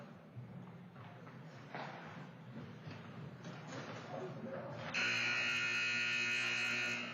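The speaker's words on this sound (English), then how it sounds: "And there's the buzzer ending this one." Crowd noise and ice hockey commentary give way to a loud, sustained electronic end-of-game buzzer that blares steadily to the end.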